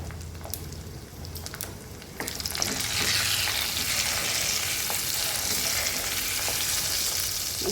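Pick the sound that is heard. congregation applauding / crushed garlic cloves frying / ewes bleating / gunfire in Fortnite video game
crushed garlic cloves frying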